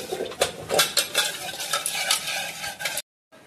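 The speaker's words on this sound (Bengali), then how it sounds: "তেলে মালপোয়া ছাড়া চলছে" Malpua batter dropped into hot oil at a home Janmashtami puja kitchen, with soft sizzling under repeated scraping and clinking of a metal spatula against the pan, busy and close, ending in a brief silence.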